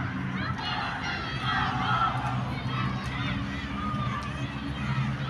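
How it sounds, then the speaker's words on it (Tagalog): A UP crowd cheering at a UP versus Adamson baseball game, a steady roar of massed voices and shouts sustained throughout with drumming and babble mixed in. "Nag-cheer yung UP crowd."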